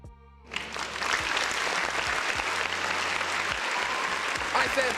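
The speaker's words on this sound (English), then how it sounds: "Round of applause for the folks in the chat." A dense round of applause starts abruptly after a quiet moment and holds steady, with a voice speaking faintly underneath.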